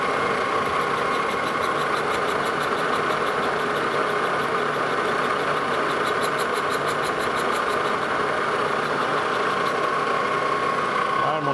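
A metal lathe turns a steam locomotive throttle valve, giving a steady mechanical drone with a constant motor hum that runs unbroken and fairly loud for the whole stretch.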